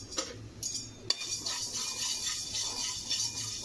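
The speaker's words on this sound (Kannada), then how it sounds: "ಸಣ್ಣ ಉರಿಯಲ್ಲೇ ಸ್ವಲ್ಪ ರೋಸ್ಟ್ ಮಾಡಬೇಕು." Lentils, fenugreek seeds and black peppercorns are dry-roasted over a low flame in a pan. A utensil scrapes and clinks against the metal in irregular strokes, with a faint rattle of seeds and no talking.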